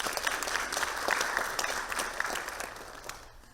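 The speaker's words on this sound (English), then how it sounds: "I want to give you a round of applause" Audience applause at a primary school poetry and spoken word showcase on renewable energy, dense and steady clapping for over three seconds before fading out.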